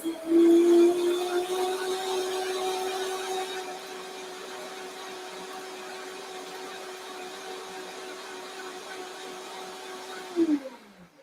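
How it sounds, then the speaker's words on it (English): A Vitamix blender runs continuously while pulverizing dates into a dip. It starts loud and high-pitched, then settles into a steady, slightly quieter whir for about ten seconds before cutting off. "I just wanted to blend it long enough to, get that date pulverized."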